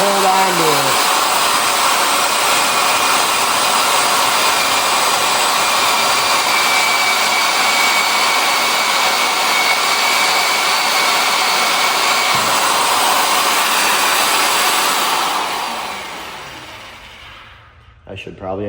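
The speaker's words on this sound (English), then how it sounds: "just do the top hole the easy way, and then use the old regular drill for the bottom hole" A loud, steady whining magnetic drill grinding into steel runs continuously for about fifteen seconds, then winds down and stops.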